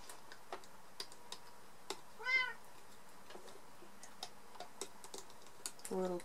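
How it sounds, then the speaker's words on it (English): A Bengal cat named Juju gives a short rising meow partway through and a brief chirp near the end, faint behind a steady scatter of small clicking ticks. "The little chatterbox behind me is my cat named Juju. She's a Bengal."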